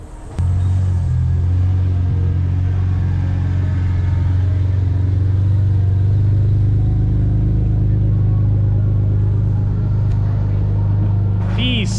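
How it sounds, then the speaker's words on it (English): A BMW 335i engine rumbles loudly nearby, a deep, steady idle growl that holds for several seconds, with a brief rise near the end. "The sickest 335i in San Diego"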